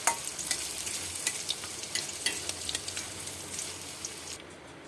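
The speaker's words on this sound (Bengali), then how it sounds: "এবার আমি তেলে গাজরগুলো দেব।" Carrots frying in oil, a close sizzling hiss with crackles and stirring scrapes, then the sizzle softening toward the end.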